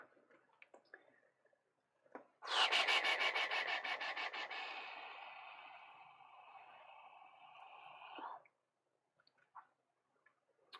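Paper is rubbed firmly against a woodblock in Japanese printmaking, producing a close, sustained rasping scrub with a rapid back-and-forth pulse that lasts several seconds and fades slightly before stopping, with quiet taps around it.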